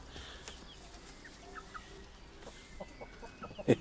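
Quiet, scattered clucks from a few chickens, soft and intermittent, with one louder squawk near the end.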